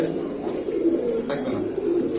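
Soft, low pigeon cooing repeats in gentle throaty pulses, close by, with faint background murmur.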